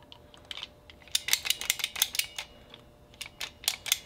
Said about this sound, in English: It's a ratcheting PEX ring tool, so you get it nice and tight on there where you want it